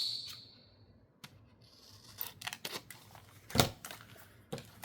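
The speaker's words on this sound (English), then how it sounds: "get my other scissors. I'm going to shorten this one up a little bit." Scissors snip through paper while trimming a piece for a junk journal: a few crisp, quiet cuts spaced irregularly, with soft paper rustle in between and no talking.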